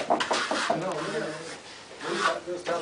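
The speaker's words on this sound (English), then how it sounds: "as it's drying, you're polishing it" A trowel rubs and rasps steadily across drying Omega Venezia plaster during polishing, a close, continuous scraping with a voice talking over much of it.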